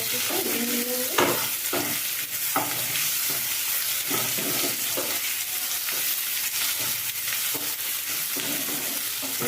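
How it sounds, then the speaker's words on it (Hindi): Chopped onions fry in oil in a pan for a drumstick curry, a steady close sizzle with occasional stirring scrapes and clinks of a spoon against the pan, with no talking. "अब प्याज को हम ब्राउन कलर होने तक अच्छे से भून लेंगे"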